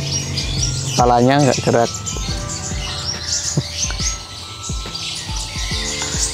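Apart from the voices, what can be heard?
small songbird chirping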